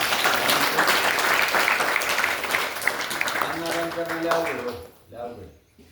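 An audience at a temple gathering bursts into loud, steady clapping that runs for several seconds before a voice starts speaking over its tail as it dies away.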